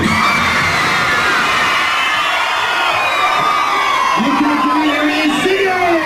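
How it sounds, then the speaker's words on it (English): A large crowd of girls screams continuously and loudly at a public appearance connected with a 1988 children's TV drama, a dense, sustained wall of high shrieks and yells with some piercing whoops rising near the end. "all these girls screaming at you"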